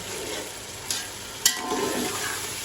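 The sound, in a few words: carrots and peas frying in a pan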